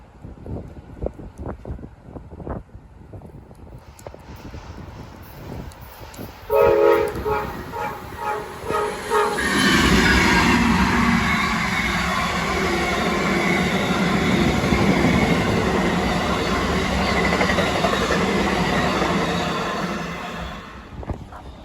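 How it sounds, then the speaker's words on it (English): Amtrak passenger train northbound on the CSX RF&P line in Spotsylvania, a Genesis locomotive leading a Charger, approaching with a long horn blast and then a loud, sustained roar and rumble of cars passing close by. "Amtrak 40 rolls northbound with a classic Genesis leading the Charger."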